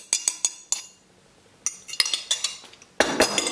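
Beaten eggs being mixed into melted chocolate and butter, with a utensil clinking repeatedly against a bowl in bursts of sharp taps, close by and alone.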